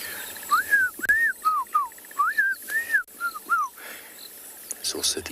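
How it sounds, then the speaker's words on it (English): A black-crowned tchagra calls in South African bush during a morning safari, giving a clear run of loud, rising-and-falling whistled notes in quick phrases, then quieter background calls. "Here a black crown chagra."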